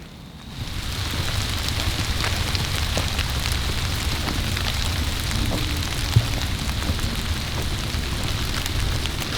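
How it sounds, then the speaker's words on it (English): Light rain falls in the woods on an evening trail, a steady, soft patter of drops across the whole stretch with one brief sharper tap partway through. "It's starting to rain a little bit too."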